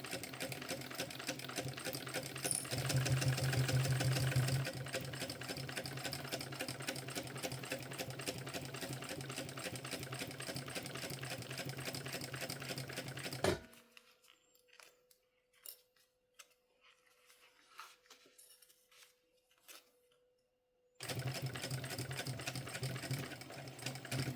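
A sewing machine stitching a mini backpack runs in a loud, fast, even buzz, stops for several seconds of quiet handling sounds and a faint tone, then starts stitching again.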